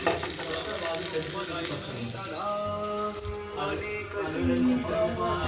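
Mustard seeds, cumin, dried red chilies and cashews temper in hot oil for chutney: a steady close sizzle with crackling and spattering, running continuously over a background of faint tonal sounds.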